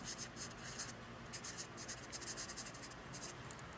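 A pen writes a name by hand on paper, giving a soft, quick, rhythmic scratching of closely spaced strokes. It is faint and close, with no speech.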